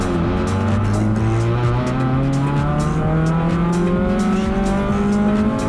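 A race car in wet qualifying at Mallala, heard loud and close as the engine drone climbs steadily in pitch through the gears, with continuous road and spray noise underneath and no pause.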